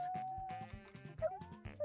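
A small pet dog in The Sims game sings in a string of high, wavering howls and whimpering yips over soft game music, close and moderately loud.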